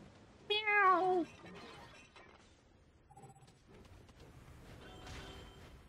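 A cat meows once, loud and close, in the video game Bayonetta, followed by quieter in-game mechanical and crashing effects.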